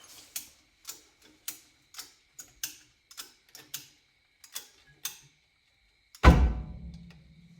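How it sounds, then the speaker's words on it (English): A ratchet strap on a 2018 Ford F-150 leaf spring is cranked in a run of sharp, evenly spaced clicks. It ends with a heavy thunk and a low rumble. "And I'll ratchet strap it because it doesn't have a lot of tension."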